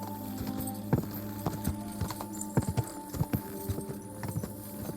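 Rhythmic hoofbeats of a horse galloping in Kingdom Come: Deliverance II, a steady clip-clop with scattered sharper thuds over continuous outdoor background noise.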